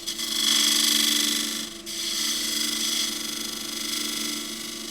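Lathe gouge cutting punky box elder wood, a steady rasping, hissing shave with a faint rhythmic pulse of the spinning blank, close and continuous with a brief dip partway through.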